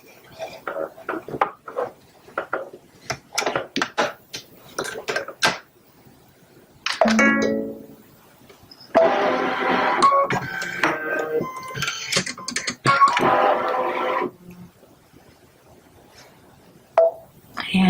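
Baby Lock Solaris sewing machine stitching a quilt, bursts of rapid mechanical needle chatter running a few seconds each, separated by pauses and short stretches of talking.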